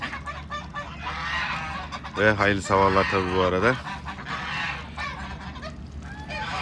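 Farm geese and ducks honking in a burst of loud, repeated calls near the middle, with quieter fowl chatter before and after; someone speaks briefly over the birds in a cold outdoor setting beside a frozen duck pond.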